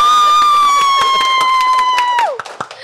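Studio audience at an Indonesian talk show breaks into loud clapping and cheering, dense and close, with a sustained high whistling tone riding over the crowd before it tails off into scattered claps.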